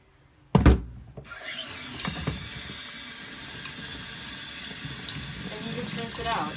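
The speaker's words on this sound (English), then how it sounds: "Rinse it out." Water from a sink tap runs steadily to rinse out a removed part of a Hoover carpet cleaner, with a thump as it begins and hollow splashing and rubbing under the flow.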